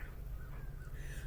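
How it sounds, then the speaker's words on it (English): Crows cawing outdoors, heard as faint, distant calls over a low, steady background hum. "I hear the crows outside sounding off."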